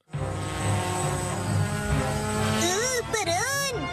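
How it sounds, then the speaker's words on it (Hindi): Cartoon drones fly in with a steady whirring, buzzing hum under a music bed, ending in a rising and falling whooshing sweep near the end. "इन्हें ड्रोन कहते हैं।"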